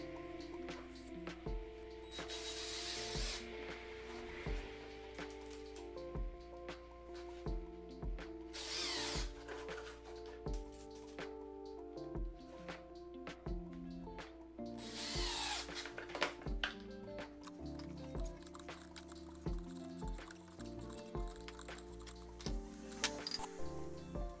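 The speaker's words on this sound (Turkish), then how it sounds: "burada tutamak kısmıyla artık gövde kısmını da vida yoluyla birbirine monte ediyoruz" A power drill drives screws to join the handle and body of a lamp built from faulty LED bulbs, whirring in repeated short bursts over a busy background of steady tones, close and continuous.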